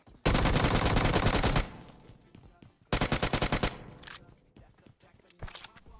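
Automatic gunfire from PUBG Mobile, a loud sustained burst of rapid shots followed by a shorter second burst and a lone shot near the end, with quieter game sounds between.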